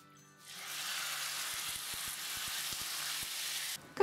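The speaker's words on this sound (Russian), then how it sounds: "обжарим мясо в сотейнике или глубокой сковороде на небольшом количестве растительного масла на достаточно сильном огне" Beef frying over fairly high heat in a little vegetable oil in a deep pan or sauté pan, a steady close sizzle with faint knocks as it is stirred, and no talking.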